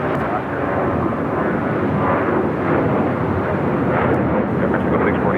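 An airliner rolling for takeoff on runway 25 right at Los Angeles International Airport, a loud continuous engine roar filling the whole stretch, with faint radio talk.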